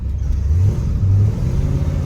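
A 1966 Chevrolet Corvette with a cowl induction hood revs steadily as it drives up a road, its mid-pitched engine drone loud and close, swelling in short pulses with no talking.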